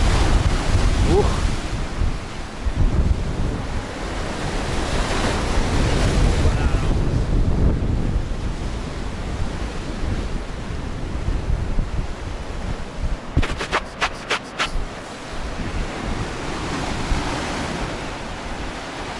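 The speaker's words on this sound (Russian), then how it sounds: "Видите, как волны, смотрите, как бьют здесь, вот волна идет." Loud Black Sea waves in Sochi surge and crash against a shore of heaped boulders during stormy weather, strong wind buffeting the microphone, a continuous roar rising and falling.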